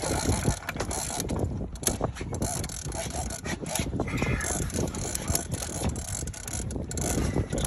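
A fishing reel cranks steadily while reeling in a large Goliath grouper off Southwest Florida, with continuous ratcheting clicks and rubbing against wind and boat noise.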